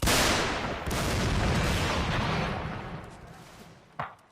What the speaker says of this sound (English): That's just such a brutal cannon, it really is